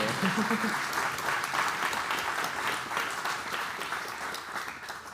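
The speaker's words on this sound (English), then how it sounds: "I'll let everybody applaud." Audience applause at a live event featuring a Neuralink patient, a dense wash of clapping from a crowd with a brief voice near the start, slowly fading toward the end.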